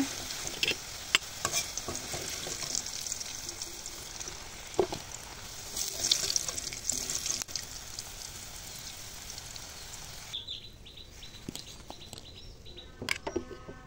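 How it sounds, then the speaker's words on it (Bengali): Potato pieces fry in hot oil in a pan, a steady close sizzle with occasional stirring scrapes and clicks, quieter and thinner toward the end. "আলুটাকে এভাবে লাল লাল করে ভেজে নিলাম।"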